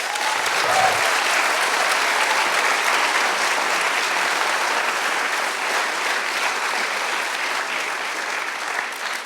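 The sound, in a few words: audience applause at award ceremony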